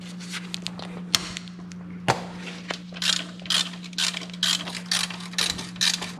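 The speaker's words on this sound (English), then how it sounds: "So I'm using the breaker bar, make it easier to break away the torque." Breaker bar fitted with an 11mm socket working a bolt loose on a W211 Mercedes voltage regulator job, giving a run of sharp metallic ratcheting clicks and clunks in short bursts over a steady low hum.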